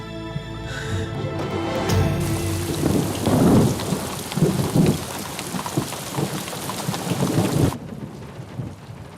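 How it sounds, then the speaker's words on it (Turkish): Heavy rain pours steadily while rolling thunder rumbles through, loud and close, with the downpour continuing alone after the thunder fades and no voices present. "Ne zaman dinecek bu yağmur?"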